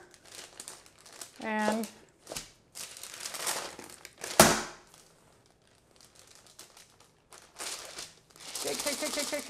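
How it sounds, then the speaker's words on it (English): A sheet of parchment paper is handled and turned over, giving loud close crinkling bursts separated by quieter gaps, with a sharp crackle midway and brief speech. "Here is my piece of parchment. And what I will do is just turn it right over"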